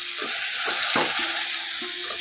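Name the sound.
water sprinkled around okra frying in pan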